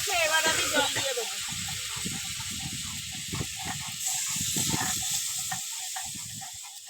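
Steady broadband hiss from potato and tomato curry in a pan as water goes in, sizzling continuously throughout, with a voice talking over part of it.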